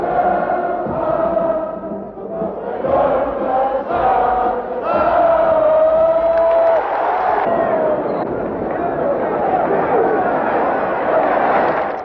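Crowd noise at a Portuguese bullfight in the Campo Pequeno arena, with applause, shouting and booing swelling and surging in waves from a large audience.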